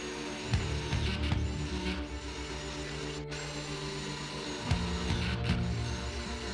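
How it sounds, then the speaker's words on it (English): Steady mechanical whirring of a power drill boring pocket holes in 1x6 boards, running continuously, with brief dips and restarts partway through, close and fairly loud. "We're going to drill 2 pocket holes on each side of 2 of the boards"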